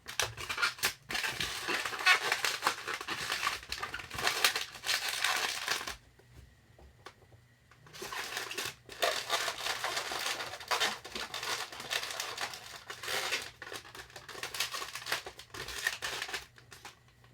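A twisted latex balloon being squished and handled up close, with continuous squeaky crinkling and rubbing in bursts, then a brief quiet pause before the rubbing resumes, with no talking.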